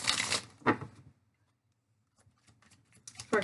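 A deck of tarot cards is shuffled in short riffling bursts, a crisp flutter near the start, a pause of near silence, then softer scattered card sounds building to another burst at the end, close and without talk.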